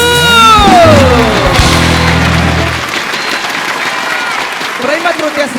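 Studio audience applauds the four coaches on a live televised singing competition stage, with loud sustained clapping and music at first, then the clapping continuing more thinly as the music drops away.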